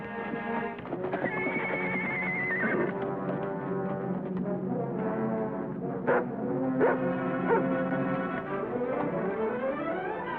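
A horse whinnies loudly and at length in an old Western adventure scene, its high, wavering neigh rising and falling over steady clip-clop of hooves and a busy background score, with a couple of sharp accents near the end.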